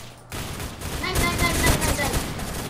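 Gunfire in the online shooter game Phantom Forces: a dense burst of rapid shots and fusillade-like blasts that starts after a short quiet moment and keeps going loud and busy, with some voice mixed in underneath.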